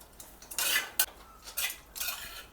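A spoon scrapes and clinks against a bowl as chicken 65 pieces are tossed in spices. The rhythmic metal-on-dish strokes come close and moderately loud, with no voices.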